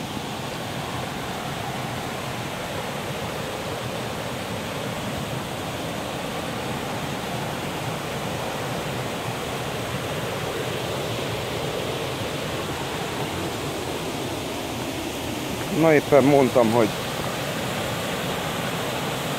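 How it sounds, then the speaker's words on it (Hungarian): Rushing mountain stream rapids in the Túri gorge (Cheile Turenilor), a steady broadband roar of churning water that fills the whole stretch, with a brief spoken voice near the end. "Éppen itt látok egy zúgót."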